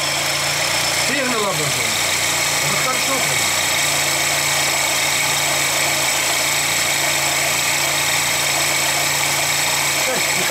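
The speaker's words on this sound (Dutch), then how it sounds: "De showclap staat nu zo ver over dat de motor bijna afslaat." A car engine idles rough and rich with the choke pulled far on, close to stalling during ignition timing work; a steady low hum runs throughout beneath someone talking.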